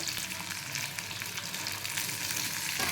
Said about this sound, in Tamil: இப்போ வந்து சின்ன வெங்காயம் சேர்த்துக்கலாம். போட்டு நல்லா வதக்கிக்கோங்க.